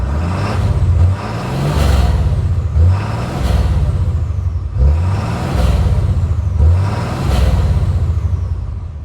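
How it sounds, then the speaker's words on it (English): A RAM 2500 diesel pickup engine revs repeatedly through its exhaust, a loud, deep rumbling roar that swells and drops in a steady cycle of about five revs with no talk. "We'll do an exhaust sound as well."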